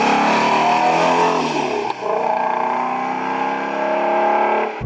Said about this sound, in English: The exhaust note on this car is completely different from just a run-of-the-mill Mustang because it has that flat plane crank V8 in it